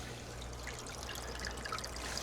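Water trickles and pours steadily into a tank holding rainwater and well water, a continuous close liquid dribble with no voices.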